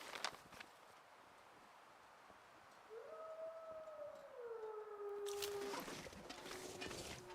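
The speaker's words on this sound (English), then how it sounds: "Fucking wolves." A lone wolf howls in a video game, one long wavering, descending cry rising out of a quiet windy ambience and fading into a wash of louder noise near the end.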